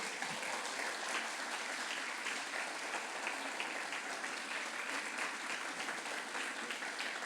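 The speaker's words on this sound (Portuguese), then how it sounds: "Você pode aplaudir Jesus por isso?" A church congregation at a Sunday celebration service applauds, steady dense clapping from many hands that holds at an even level throughout.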